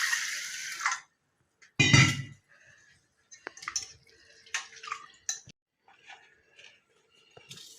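Lentils being washed under running water in a kitchen: a short burst of splashing flow, then scattered drips, clinks and swishing as the grains are rinsed, close and fairly quiet.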